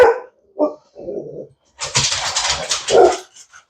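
Dogs bark indoors, several short close barks followed by a louder, denser burst of barking and yelping near the end.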